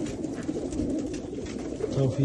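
Racing homing pigeons coo softly at a racing club loft, low murmuring calls close by under a voice talking.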